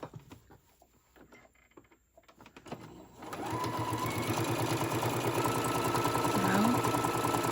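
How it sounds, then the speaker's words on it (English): A sewing machine stitching down the length of a fabric key fob: a few quiet handling clicks, then a loud, close, continuous whirring run of rapid stitches that lasts to the end. "you just kind of hold it and sew all the way down"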